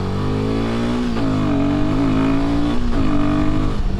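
Royal Enfield Himalayan 450 motorcycle ridden in eco mode, its engine droning steadily and close with slight pitch rises and dips as the throttle shifts, continuous throughout.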